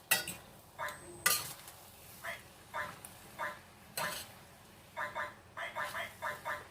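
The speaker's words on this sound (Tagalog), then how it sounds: "Tapos haluin lang natin guys" Steamed green peas and snow peas get stirred into pancit noodles in a pan, a series of soft scraping and clinking strokes at a regular pace over a quiet background.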